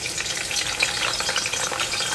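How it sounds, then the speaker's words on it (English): Onions sizzle in warm palm oil for an egusi palava sauce, a steady dense crackle with fine spitting that holds at an even level throughout, close by and with no voices. "I think it's a good time for us to add our onions into the oil."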